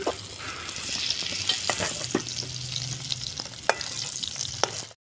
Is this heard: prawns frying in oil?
yes